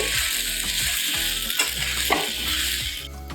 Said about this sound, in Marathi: ह्यामध्ये थोडीशी साखर ऍड करून घेऊयात आणि हे सगळं परत एकदा मिक्स करून घेऊ